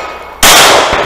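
A single bullet strikes a steel target at a 3-gun match stage, a sharp, loud metallic clang with a brief ringing tail, followed by a fainter second impact.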